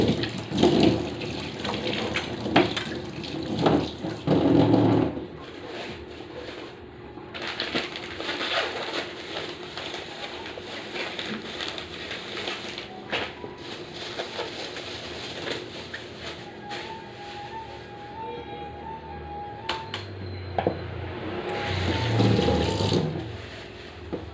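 Tap water running steadily while ground meat is rinsed in a kitchen sink during cooking prep, with splashing that swells and fades and brief louder bursts, no voices.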